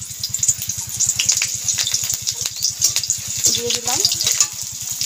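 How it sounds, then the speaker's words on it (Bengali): Chopped onion and bay leaves sizzle steadily in hot oil, a crackling, bubbling hiss close to the mic, with someone speaking briefly over it. "দেখুন তেলটাও গরম হয়ে গেছে, এবার এখান থেকে আমি সামান্য পেঁয়াজ কুচি"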